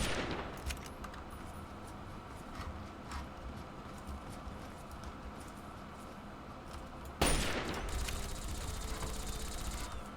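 Faint, distant gunfire in the video game Fallout 3: scattered single shots over a low background, then a denser burst of firing about two-thirds of the way through.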